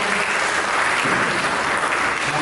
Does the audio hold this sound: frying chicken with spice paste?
no